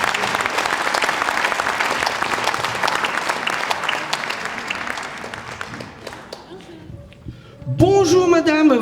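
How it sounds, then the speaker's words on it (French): A cabaret audience at a superhero-themed show gives a loud, dense round of applause that thins out toward the end, and a person's voice comes in over the fading clapping. "Messieurs, dames, un tonnerre d'applaudissements pour Miss Bisou"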